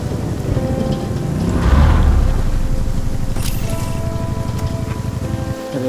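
Steady, dense rain falls in the video game Undawn on ultra graphics settings, a constant close wash of downpour that swells slightly midway, with a faint rumble low underneath.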